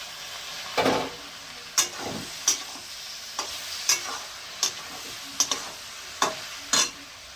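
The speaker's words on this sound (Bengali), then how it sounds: "এবার মাশরুমগুলো দিয়ে দেবো," Mushrooms frying in a pan of tomato paste with salt, turmeric and sugar, with a faint steady sizzle broken by about ten sharp spatula knocks and scrapes at irregular intervals, close by.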